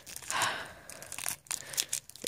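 A Pokémon card pack's foil wrapper is torn open up close, giving a quick crinkly rip followed by several shorter crackling tears and rustles.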